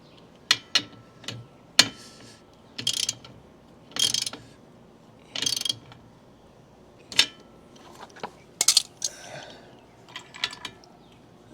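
Hand tightening bolts on a boat trailer winch gives a string of close, sharp metallic clicks and short ratcheting bursts at irregular intervals, with quiet pauses between them and no talking.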